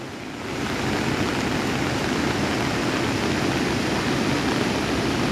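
A swollen river in Konkan rushes after heavy monsoon rain, a steady loud roar of churning water that rises in the first half second and then holds constant with no voices.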